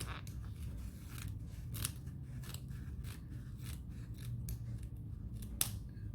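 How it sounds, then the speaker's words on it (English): Scissors snip through fabric as a circle is cut out for a baby dress, a run of crisp close cuts in uneven rhythm over a low background hum, with no one speaking. "so now I am going to cut out my circle shape."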